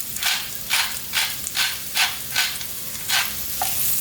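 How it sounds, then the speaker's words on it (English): Onion, garlic and fresh-ground black pepper frying in a pot for tannia talkari, stirred in regular scraping strokes about twice a second over a soft sizzle, close and alone. "Give that another quick stir"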